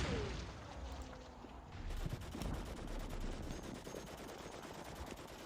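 Sustained gunfire from a Gallipoli wargame battle as troops landing at North Beach fire on the Turks, a dense, continuous crackle of rifle and machine-gun fire with distant rumble running through the whole stretch, no speech.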